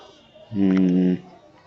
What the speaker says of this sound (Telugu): ఇక్కడ వచ్చేసి మేక పిల్లలు